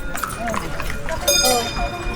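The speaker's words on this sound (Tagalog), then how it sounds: "Ay, kabayo. Ayan, kabayo, picture mo." A horse clip-clops along a street in a heritage village in Vigan, its hoof strikes faint and irregular beneath steady conversation and outdoor bustle.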